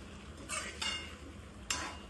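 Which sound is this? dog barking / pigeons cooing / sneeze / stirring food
stirring food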